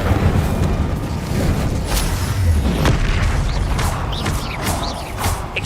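The Incendio fire spell goes off in Witch Simulator 2023, a sustained loud roaring burst with rumbling booms and scattered crackling pops throughout.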